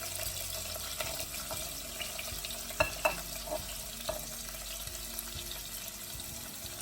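Onion frying in oil with cumin, fenugreek and green chili for a tomato-onion curry gravy, a soft, steady sizzle with a few light clicks of a spoon against the pan, no voices.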